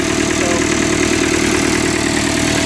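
A David Brown 995 tractor engine idles after a cold start with a loud, steady, even rumble up close and no voices over it.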